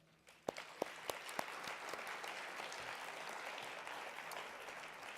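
An audience at a California governor's race agenda event breaks into applause, starting with a few sharp claps and swelling into steady, dense clapping from a sizeable crowd that continues for several seconds without speech.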